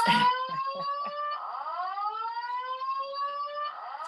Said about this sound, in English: here comes the siren again